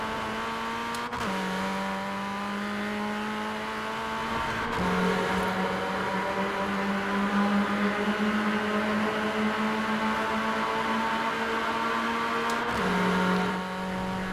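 A Mini Cooper John Cooper Works in Forza Horizon 4 accelerates hard, its engine whine climbing steadily through long gears with a few sharp shifts, loud and continuous with no talk.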